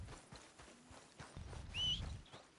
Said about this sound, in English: Red Dead Online, I could just call my horse from anywhere